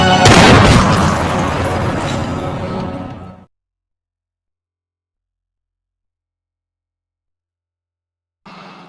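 A pistol shot in a film scene as Bishop shoots Harry, a loud booming blast whose rumble decays over about three seconds, then silence and a faint return of sound at the end.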